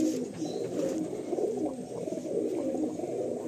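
Andhra and Madrasi pigeons cooing in a loft in Kolkata, soft repeated low coos close by, fairly quiet, with no talking.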